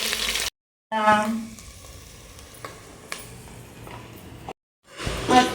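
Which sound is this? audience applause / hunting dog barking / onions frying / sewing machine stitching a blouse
onions frying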